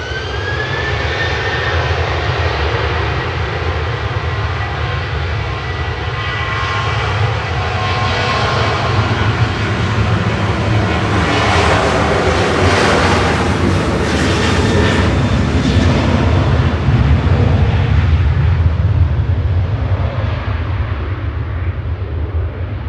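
A Ryanair jet departs Manchester Airport for Alicante, its engines roaring loudly and close, swelling with a whining edge mid-pass before easing slightly, with no talk over it.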